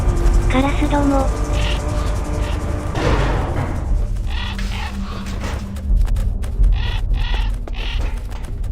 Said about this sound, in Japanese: カラスども。